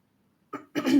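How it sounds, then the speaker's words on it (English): A person clears their throat with two short, close bursts, a brief rasp followed by a louder, rougher hack, in an otherwise quiet room. "I have to clear my throat to answer that one"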